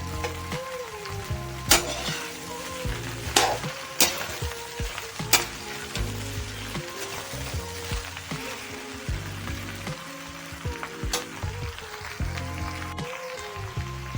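Okra fries in a pan at home, a steady close sizzle and crackle with occasional stirring clatters and sharp spoon knocks on the pan throughout.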